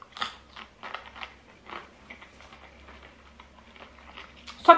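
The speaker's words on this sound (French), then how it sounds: "Ça croque dans tous les sens." Crisp, irregular crunching from someone biting and chewing a raw radish, a run of close, dry crackly bites spread over a few seconds with a louder snap at the end.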